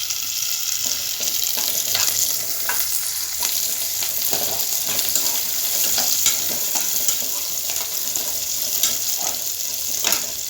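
Curry leaves crackle and sizzle in hot oil for a Tamil manathakkali kuzhambu, a steady loud frying hiss with sharp pops scattered throughout and no talking.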